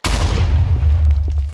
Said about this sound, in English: They hear it, they hear the TNT go off,